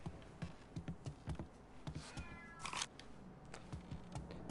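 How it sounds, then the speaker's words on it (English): A cat in the video game Mafia 3 gives a series of short, close meows and cries, repeated in an uneven rhythm over faint background ambience. "I heard a demonic cat meow."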